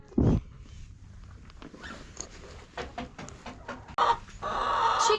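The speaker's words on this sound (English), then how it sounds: "So the chickens don't get anything special when it's cold." Chickens on a farm in winter give soft, scattered clucks at fairly close range, with a few sharper calls and some rustling movement between them.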